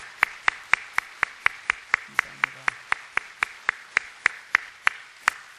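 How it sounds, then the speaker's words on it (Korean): A church congregation claps in welcome, a steady single-beat clapping rhythm at even intervals for several seconds, with a brief spoken thanks. "우리 뜨겁게 박수로 환영하겠습니다"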